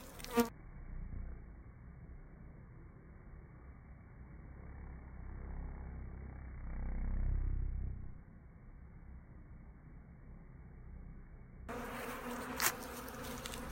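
Honeybees buzzing around a nuc box during hive installation, a faint steady hum that swells briefly in the middle, with a couple of soft knocks.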